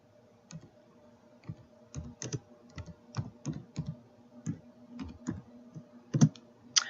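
Quick, uneven keystrokes tapped out on a computer keyboard while entering a name, a close run of sharp clicks with short pauses between bursts and no talking.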